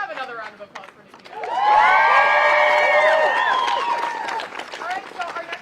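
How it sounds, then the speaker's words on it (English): A crowd at a student walkout rally bursts into cheering, whoops and applause for a speaker, swelling after a quieter start and then tapering into scattered clapping and voices. "Let's have another round of applause for Nikki."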